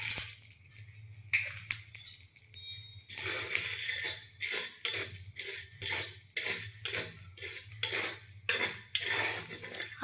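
Corn kernels popping in an empty karahi for Lakshmi Puja puffed corn, a steady run of sharp crackling pops and rattles against the metal pan, close and fairly loud with no talking.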